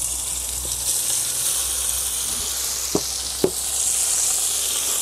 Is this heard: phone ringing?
no